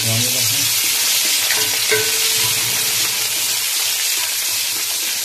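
Ginger-garlic paste sizzles and spatters in hot oil, a loud, continuous crackling hiss with occasional stirring scrapes, close up and without speech.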